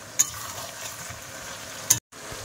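Meat cooks in a pan over low heat, giving a soft, even sizzle close by, with two brief sharp ticks and a short gap near the end, and nobody speaking.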